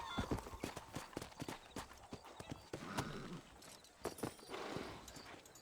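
Horse hooves clip-clopping in Red Dead Redemption, a steady run of sharp, fairly close hoof strikes with a brief whinny among them and no talking over it.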